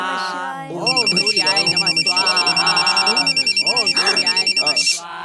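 A phone ringtone chanting Om Namah Shivaya plays loudly in a pulsing, repeating pattern over sung and spoken voices, and it stops abruptly near the end.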